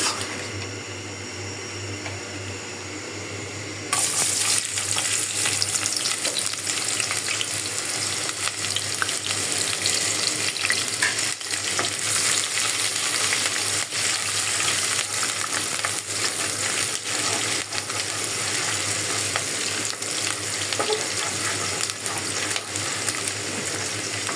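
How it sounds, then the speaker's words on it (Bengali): Onions frying in a pot with cardamom and cinnamon, a loud continuous sizzle that surges after a few seconds and holds steady throughout, no talking. "পেঁয়াজটা ভাজা হয়ে গেছে"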